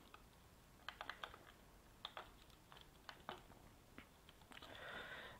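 Fingers type on a computer keyboard in a quiet room, a faint, uneven patter of key clicks in short bursts, close to the microphone with no talk.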